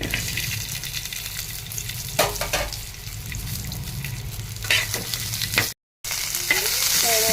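Chopped onion goes into hot oil with garlic already browned and reddish, and a steady loud sizzle and crackle of frying fills the pan, broken by stirring clatters and one brief silent gap.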